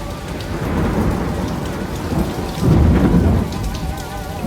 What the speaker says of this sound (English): Outside, a storm comes up.